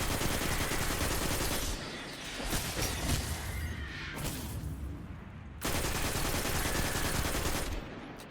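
Automatic gunfire in Destiny 2 Shadowkeep, with dense rattling bursts that stay loud and close, drop back for a few seconds, then resume at full intensity.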